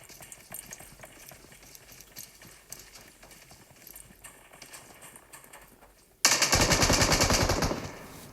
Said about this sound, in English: team 12 are now being shot at by team 16